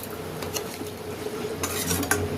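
A spoon stirs sugar into a thick hilsa fish head curry with eggplant and potato in a pan, making irregular close scrapes and clinks against the metal over a low simmering background.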